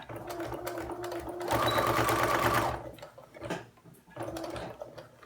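A home sewing machine stitches through fabric for a fitted face mask with a wire along the edge, a few short bursts of close whirring and clicking separated by quiet pauses and small handling noises.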